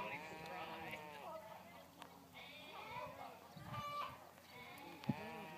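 Sheep bleating repeatedly at a Border Collie herding demonstration, several wavering calls at moderate distance, with a person talking over them in the background.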